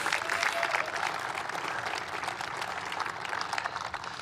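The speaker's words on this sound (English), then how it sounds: "You should applaud that." An audience claps during a presidential speech on an Intel CHIPS agreement, dense, sustained applause from a large crowd with brief louder bursts, close and strong throughout.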